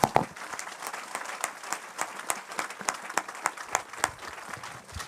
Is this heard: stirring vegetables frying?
no